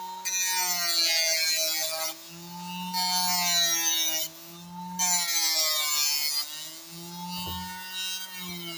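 A homemade 12-volt grinder spins at high speed, sharpening a knife: a loud, steady high-pitched whine with rising harmonics, broken by brief dips as the blade is lifted and pressed back against the wheel, no talking.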